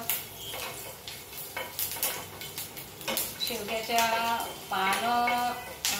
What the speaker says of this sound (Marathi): लसूण परतून घ्यायचं अगदी थोडं लालसर होईपर्यंत